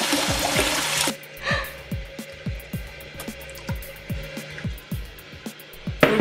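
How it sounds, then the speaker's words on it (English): Dried miyeok seaweed is rinsed in water. Water pours and splashes briefly, then a series of soft, rhythmic sloshing and dripping sounds follows, ending with another short splash. "We're going to rinse Miyeok."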